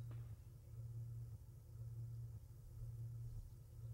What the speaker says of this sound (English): Just riding the elevator on up